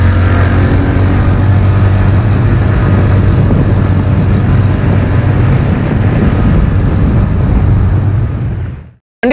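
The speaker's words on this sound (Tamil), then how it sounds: "வண்டியோட எக்ஸாஸ்ட் எப்படி இருக்குது அப்படின்றத நம்ம இப்போ பார்க்கலாம் வாங்க." A TVS Ntorq 125 Race Edition scooter's exhaust runs at a loud, steady idle close to the pipe, a continuous low engine drone that holds for about nine seconds and then cuts off abruptly.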